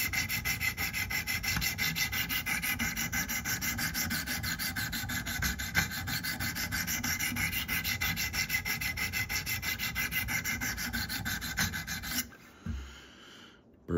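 A knife is sharpened with steady back-and-forth rasping strokes that scrape evenly and close up with no talk, then stop near the end and are followed by a few soft handling knocks.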